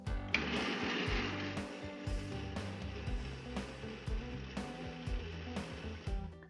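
An ice cream maker runs with a steady mechanical hum and rhythmic whirring while churning a Kahlua coffee ice cream mixture, with close, repeated clicks marking its motor cycles and no voices.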